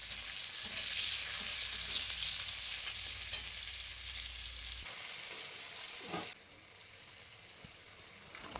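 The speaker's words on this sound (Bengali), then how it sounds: "দিয়ে দেবো কুচানো পেঁয়াজ। পেঁয়াজগুলো ভালোভাবে ভেজে নেব।" Chopped onions sizzle in hot oil with bay leaf, five-spice and dried chilli, a dense, steady hiss that drops away partway through, followed by a few faint clinks close by.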